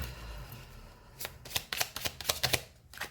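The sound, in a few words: spreading out tarot cards on a table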